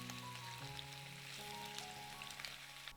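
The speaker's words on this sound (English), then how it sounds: "Just listen to that gentle, comforting sizzle as the meat gracefully meets the hot oil." Chicken drumsticks sizzle in hot oil in a pan, a faint steady crackle with scattered pops under soft background music.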